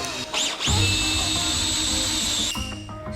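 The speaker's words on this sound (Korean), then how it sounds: "저희가 지금 장비가 뚫고 들어갔는데" A drain cleaning machine bores through an oil-clogged sewer pipe, producing a loud, steady mechanical whine with hissing that holds for about two seconds before cutting off, with no talk.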